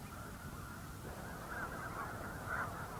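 Snow geese honk in a flock, several overlapping calls sounding fairly distant over a low, faint background murmur.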